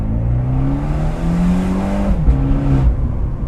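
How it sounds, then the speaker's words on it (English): An Abarth 124 Spider sports car engine revs up loud and close, pitch climbing steadily, then a brief dip as it shifts before pulling hard again. "Starting off with a quick acceleration."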